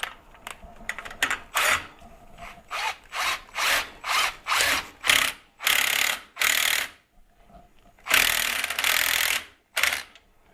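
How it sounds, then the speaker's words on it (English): A power drill works on the fork cap of a Kayaba front fork from a 2006 Honda CBR1000RR during seal service, giving a run of short, loud, evenly spaced bursts with brief pauses between them and no talking. "Just take a drill, and we're going to go press it from there."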